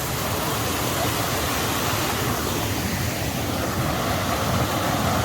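Rainwater stream running fast beside a walking path on an old railway line in North Wales after flooding, a steady, loud, close rushing of water with no voices.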